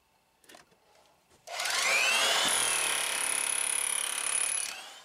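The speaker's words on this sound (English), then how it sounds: "we've slapped the 100 micron dust filter back on our drill" An XtremePowerUS 1400W demolition hammer digging into sand roars loudly and steadily for over three seconds after brief quiet handling, then stops abruptly.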